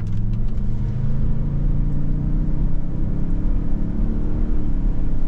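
A 2023 Lincoln Navigator L Reserve with a 10-speed transmission pulls away from a rolling start, a steady low engine rumble and road noise that holds loud and even, with the pitch slowly climbing.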